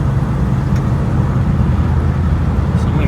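A 1959 Lincoln runs steadily as it drives, warmed up and shifting normally, giving a loud, continuous low rumble of engine and road noise with no breaks.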